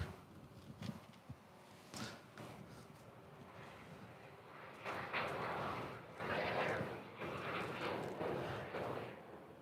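Boeing 787-9 Dreamliner jet at LAX, a distant engine rumble that swells and fades in waves beneath wind buffeting the microphone.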